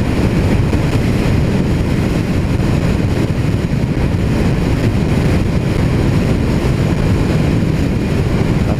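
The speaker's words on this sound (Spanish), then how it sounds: "La moto está respondiendo muy bien" A Honda PCX125 scooter rides along a local road, its engine and rushing wind forming a loud, steady roar that continues without a break and with no one talking.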